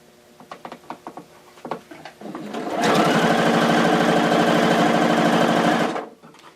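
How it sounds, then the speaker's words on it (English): A sewing machine stitches a fabric face mask, starting with a few light clicks and taps, then running in one loud, steady, whirring burst of about three seconds before stopping abruptly. "if you come off, just back up, get back on there and just sew it some more"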